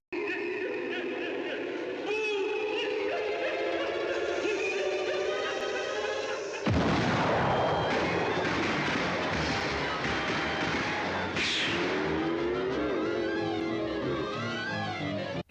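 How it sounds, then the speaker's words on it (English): Cartoon fireworks blast in Tex Avery's 1940 short Ghost Wanted: a sudden loud explosion hits midway, followed by a dense, roaring burst of crackling effects and a rising whistle, all under a busy musical score. "he still has all those fireworks in his pocket, and somehow one of them gets lit up."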